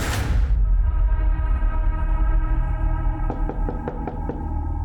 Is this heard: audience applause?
no